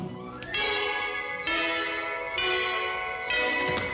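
A church bell tolls for a wedding in a 1943 wartime musical, ringing four slow, resonant strikes in steady rhythm, each long ringing tone overlapping the next and sounding alone.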